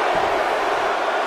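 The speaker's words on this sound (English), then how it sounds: "Listen to this crowd." Arena crowd in the WWE 2K19 wrestling video game during a 30-woman Royal Rumble, a loud, sustained roar of cheering with no distinct voices.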